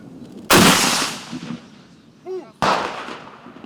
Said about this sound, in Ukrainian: Прицілився по готовності постріл. Постріл!